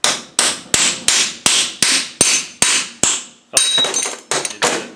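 A hammer strikes a Chinese-made power steering box about a dozen times in a steady rhythm, each close, loud, sharp metallic hit ringing out briefly before the next.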